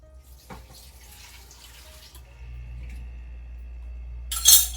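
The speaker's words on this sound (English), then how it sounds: "Go ahead and pour this over the top." Liquid pours over the ingredients of a poor man's stew in a pot, a soft running trickle that deepens into a steady low gurgle, ending with a brief clink.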